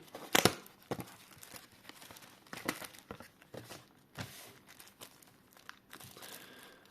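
Paper envelope packaging handled and opened, holding chewing-gum cartoon inserts and calendars fastened with a paper clip; soft crinkles and scattered tearing rustles come and go in short bursts, fairly quiet and close.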